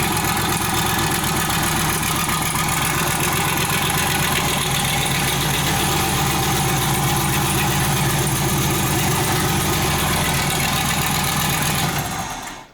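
A deep, rumbling turbocharged LS3 V8 in a Mazda Miata idles steadily and loudly, its low throb holding even throughout before cutting off abruptly at the very end.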